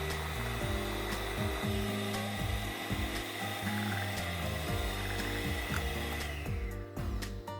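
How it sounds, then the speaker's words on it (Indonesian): An electric mixer beating chocolate cake batter, running steadily with a rhythmic clattering, ratchet-like pattern of the beaters against the bowl, loud and close, slowing briefly near the end. "Ini mixernya jangan terlalu lama, sampai dengan semua adonannya merata aja."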